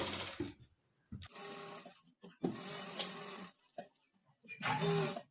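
Sewing machine attaching lining to main fabric with a long stitch: several separate bursts of motorized stitching, each a second or so long, with quiet pauses between, fairly faint and close.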